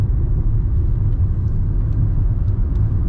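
Steady low rumble of a car cruising along the road with passengers aboard, heading out to quote a pressure washing job; constant engine and road noise, no talking.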